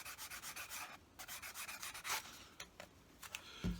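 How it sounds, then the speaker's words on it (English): Close, steady rubbing strokes on the wing of a Wright Flyer model, a rhythmic scrubbing repeated about a dozen times, then slower, sparser rubs and a faint knock at the end, with no talking. "You just rub it off."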